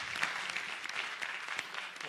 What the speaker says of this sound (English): Let's say it one more round of applause for all these students.